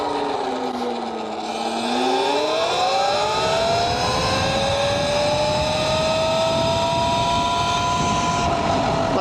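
A Talaria x3 electric dirt bike fitted with a 54 tooth rear sprocket accelerates hard, its motor whine climbing steadily in pitch over rushing wind noise, loud and close throughout.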